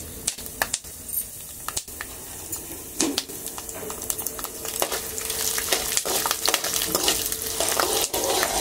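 Continuous crackling sizzle of green chillies frying in hot oil, close up, with occasional sharp ticks and stirring noises; no voices.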